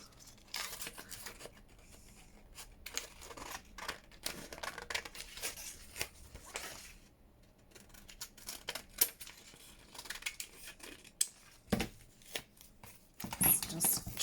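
Scissors trimming the top off a paper junk-journal collage tag with vellum overlay, with several crisp close snips and paper rustles in bursts, separated by quieter pauses.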